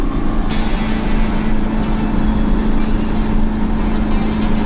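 A vehicle towing a toy hauler trailer climbs a freeway hill, giving a steady, loud engine drone and road roar with a constant low hum and faint recurring rattles throughout.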